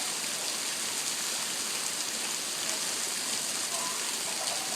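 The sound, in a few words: heavy rain falling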